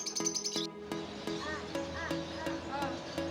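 Several birds chirp and call in short repeated notes, fairly quiet, with a brief cluster of higher tweets at the start.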